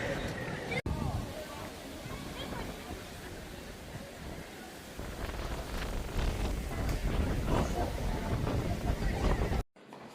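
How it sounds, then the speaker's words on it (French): Strong wind buffets the microphone in rough, roaring gusts that swell louder toward the end, with talking partly buried beneath the rumble. "il y a des bourrasques"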